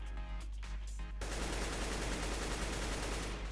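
Automatic rifle spray in CS:GO: a dense, unbroken burst of rapid shots starts after a brief quieter moment and keeps hammering loudly and steadily to the end.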